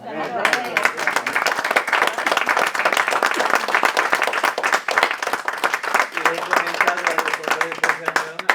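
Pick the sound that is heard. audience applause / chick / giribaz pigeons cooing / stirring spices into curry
audience applause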